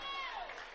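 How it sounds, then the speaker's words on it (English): Crowd applause in a gym at a high school girls basketball game, a broad steady wash of clapping with a faint tonal line running through, brief and at moderate distance. "As he receives an applause."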